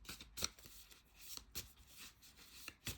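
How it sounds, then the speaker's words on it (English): Tarot cards are shuffled by hand, giving soft, quiet riffling and rubbing bursts at an irregular pace with no talking. "I'm shuffling the cards"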